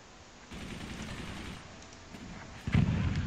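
Mortar fire in the video game Forts: a low, rumbling boom lands near the end, after a stretch of steady muffled battle noise, moderately loud with no talking.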